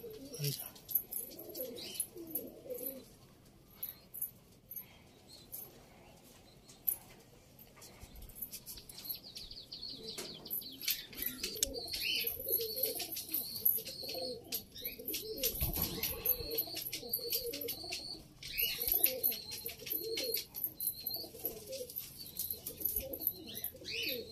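Pigeons in a loft coo in low soft rolling phrases, with chirps, rustling and occasional wing flaps, several birds nearby at moderate volume, busier in the second half.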